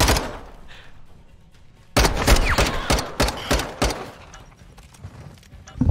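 Gunfire in Modern Warfare 2, a quiet lull that breaks into a loud, close flurry of rapid shots in uneven bursts, sustained until the end with no talking.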